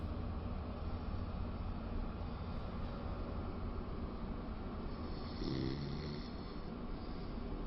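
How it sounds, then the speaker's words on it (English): Faint, low snoring drones steadily beneath a constant hiss of background noise. "Dude, snoring?"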